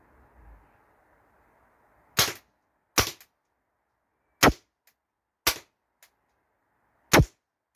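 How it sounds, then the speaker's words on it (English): Umarex HK416 A5 air rifle fired at a target, five sharp, loud separate shots spaced about a second apart, each followed by a faint click, against a quiet background. "So I'm just going to put another 5 rounds into there."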